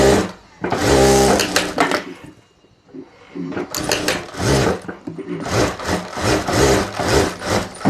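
A sewing machine stitches a handbag in loud bursts of rapid mechanical chatter, stopping and starting with a short pause in between.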